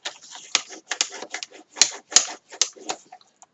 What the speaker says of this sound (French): Alors je vais marquer un premier pli à 12 cm.